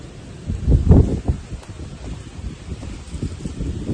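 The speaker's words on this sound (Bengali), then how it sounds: "হাওয়াটা কি ভালো দিচ্ছে সারা রাত হাওয়া দিয়েছে" Wind gusting through potted plants in a balcony garden, a soft rustling swell that peaks early then settles into lighter, uneven fluttering with no voices.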